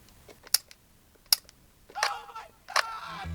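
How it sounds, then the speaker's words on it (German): Shutter of a Fujifilm X100VI camera, four sharp separate clicks spaced roughly evenly apart, close and crisp against a quiet background. "so scheußlich klingt der Auslöser"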